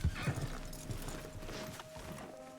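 A horse in the Red Dead Redemption 2 video game clip-clops along and lets out a loud neigh. The hoofbeats continue under steady background ambience.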